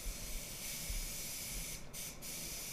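A spray gun lays an orange pearl base coat onto a Lamborghini Murcielago, a steady close airy hiss running the whole time with two brief pauses near the end.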